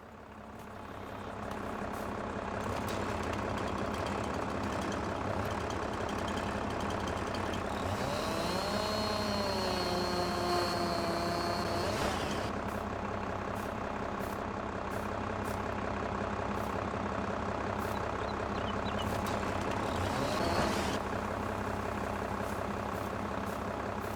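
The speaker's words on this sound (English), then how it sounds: "My tractor is just not strong enough to force it." Tractor engine straining against a heavy load in a farm simulator game: a steady, droning low engine rumble lasting the whole stretch, with a rising whine in the middle, and no talking.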